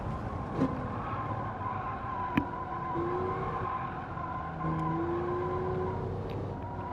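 A car sliding and skidding through a section of the Streets of Willow track in Gran Turismo 7 during tire wear testing: steady engine drone with drawn-out tire squeals rising twice over it, fairly quiet, with brief clicks.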